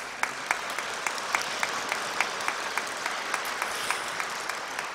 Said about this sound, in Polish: Oklaski dla księdza kanonika.